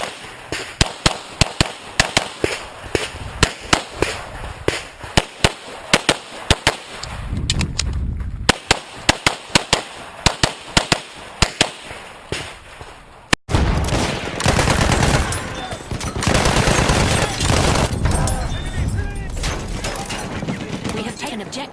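Ruger PC carbine gunshots crack in rapid sharp bursts, followed by a dense stretch of overlapping shots and noise, with a voice talking partway through.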